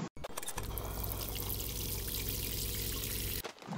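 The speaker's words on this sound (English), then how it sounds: "From a faucet." Water runs steadily from a tap with a low, even gush, starting and stopping abruptly after a few brief clicks.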